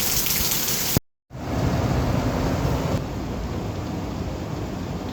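Heavy rain from Hurricane Michael pours loudly and steadily outside a workshop near a lake, a dense continuous roar that cuts out for a split second, then resumes at full strength with a faint distant rumble.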